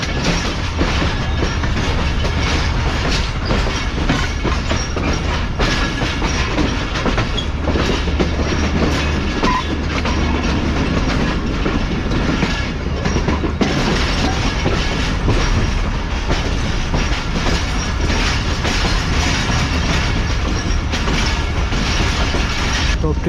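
A train runs steadily over rails in Pakistan, nearing a bridge across the Indus, with continuous loud rumbling, rhythmic clickety-clack of wheels and occasional faint squeals, close and unbroken throughout.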